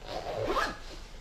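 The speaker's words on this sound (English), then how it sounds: "Let's see how she zips up." Zipper drawn shut on a homemade carp fishing rig wallet, one short continuous rasping zip close to the mic, alone with no talk.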